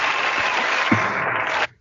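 Short burst of applause played as a sound effect, dense and steady for under two seconds before cutting off abruptly, with no talking over it.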